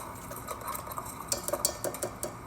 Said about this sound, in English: Scrape around the sides of the bowl because sometimes it can be some dry ingredients around the side